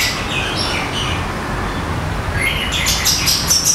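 An orange-headed thrush (anis merah), a kept songbird, chirps with high scattered calls over a steady broadband hiss, with the calls growing busier toward the end.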